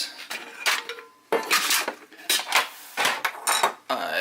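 A Toaks 750ml titanium pot and camp stove parts are handled, giving bright metallic clanks and clinks in uneven bursts, close and fairly loud, with short pauses between the knocks.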